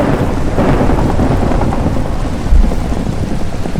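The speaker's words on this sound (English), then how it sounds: "Oh god, it's thundering." Thunder rumbles through a steady downpour in a Minecraft hardcore-world thunderstorm, a broad continuous roar of rain with a deeper low boom swelling near the end.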